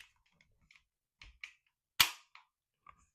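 A Mossberg 88 shotgun gives a few sharp, dry mechanical clicks with a trigger pull and action, including one louder snap, near and isolated with no talk.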